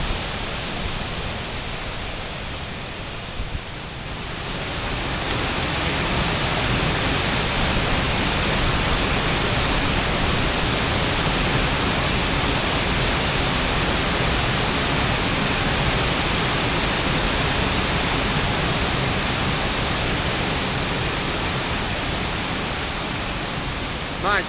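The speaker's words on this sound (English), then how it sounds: "Well, I hear water running and I can see it from a distance. It's roaring." Ranger Falls waterfall in Savage Gulf roars as a steady, loud broadband wash of falling water, swelling after a brief quieter moment near the start and then holding constant throughout.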